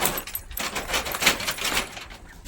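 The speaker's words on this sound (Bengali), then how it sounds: "এখন চাবিটা খুলে নিয়েছি" Keys jangle and rattle close by in a continuous metallic clatter as the lock on a small chicken farm is worked open.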